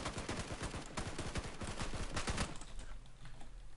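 Rapid bursts of gunfire from the PUBG battle royale game crackle in a dense, fast rhythm for most of the stretch, sounding close and sharp, then thin out toward the end.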